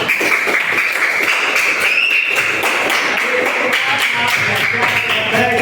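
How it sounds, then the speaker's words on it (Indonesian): A class of students claps together indoors, a dense rapid run of hand claps that carries steadily through to the end. "Tepuk tangan untuk kita semua."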